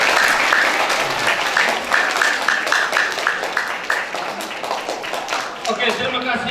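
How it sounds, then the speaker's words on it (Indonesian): A crowd at a church Bible event gives lively applause to open it, with rhythmic claps standing out in the middle and a voice coming in toward the end. "saya buka acara BKSN dengan tepuk tangan meriah"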